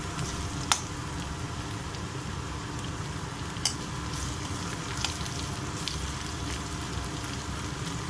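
Mutton keema frying with chopped green chillies, giving a steady, close sizzle with a few faint clicks and taps over it and no talking.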